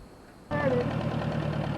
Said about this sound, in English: It came off just as he started the tractor to drag on the ground.